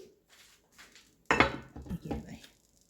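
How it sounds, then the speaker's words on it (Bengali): A lid goes onto a pot of fish curry with a sudden metallic clank, followed by a couple of lighter rattling knocks as it settles, after a few quiet soft touches. "এখন আমি একটা ঢাকনা দিয়ে ঢেকে দিচ্ছি"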